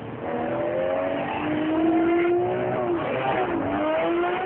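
A 2010 Lamborghini Murcielago LP 670-4 SuperVeloce engine roars steadily as it accelerates, pitch climbing through gear changes, loud and close with no talking.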